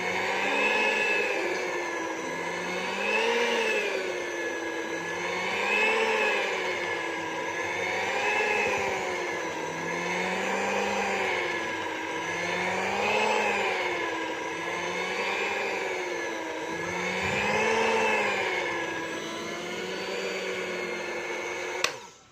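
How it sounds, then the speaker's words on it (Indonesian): Spiral mixer kneading donut dough: a steady, continuous mechanical whir with a slow rhythmic rise and fall in pitch, loud and close, running alone without talk. "Setelah beberapa saat kita uleni menggunakan mixer spiral."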